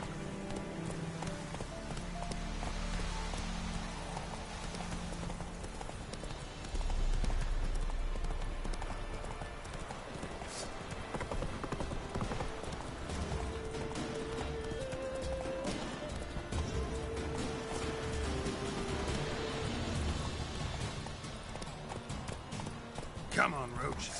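Horse hooves clip-clop at a steady trot in The Witcher 3, the rhythmic beats running throughout while someone talks over them.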